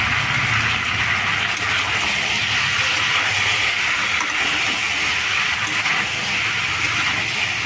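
Vegetables fry in a pan with ginger and green chilli, giving a steady, loud hiss and crackle of sizzling oil that runs evenly throughout with no talking.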